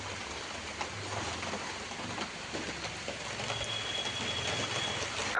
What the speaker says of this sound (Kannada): ಈಗ ಮಳೆ ಸ್ಟಾರ್ಟ್ ಆಗಿದೆ ನೋಡಿ.